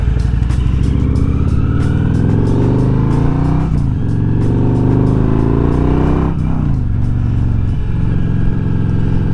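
A 2003 Victory Vegas 1500cc V-twin motorcycle engine runs loud and close, its steady rumble rising and falling with throttle changes, with no talk over it.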